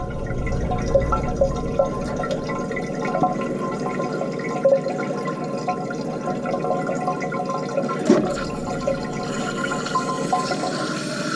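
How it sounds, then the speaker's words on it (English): A toilet runs and refills as water leaks past a worn flush valve seal, giving a steady trickling wash with faint drips and a brief gurgle near the end, close and continuous. "And then you can hear that it's running."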